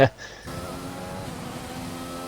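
A McLaren race car in a racing video game laps Monza, its engine a steady, mid-distance drone after a brief sharp burst at the start.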